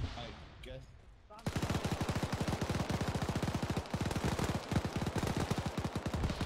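A snowball launcher fires in Arma 3 during a Christmas operation hunting Santa, a fast, steady stream of close, punchy shots running continuously after a brief quiet opening.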